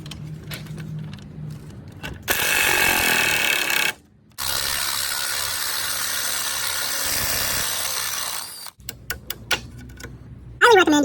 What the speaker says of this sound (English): The big ratchet is very, very nice to have.